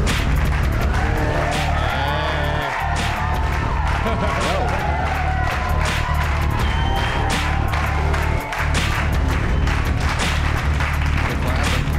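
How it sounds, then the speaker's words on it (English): A studio audience claps through a live comedy show broadcast, dense steady applause filling the whole stretch, loud and close, with crowd noise and voices mixed in underneath. "They're clapping."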